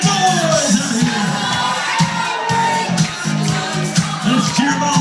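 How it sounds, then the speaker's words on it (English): A crowd cheers, whoops and shouts at a corn dog eating contest at the Strawberry Festival, with children's voices among the noise, steady and lively throughout with bursts of louder yelling. "Let's cheer them on."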